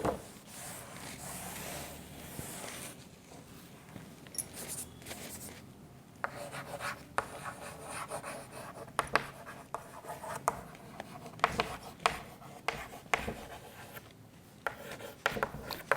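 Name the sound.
writing on paper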